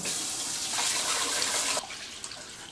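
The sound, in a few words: rinsing rice with water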